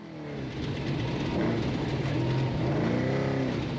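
An off-road race vehicle's engine drones and revs at a distance during a Baja Nevada desert race on soft, freshly bladed dirt, a broad rough roar that swells gradually with wind-like noise throughout and no talking.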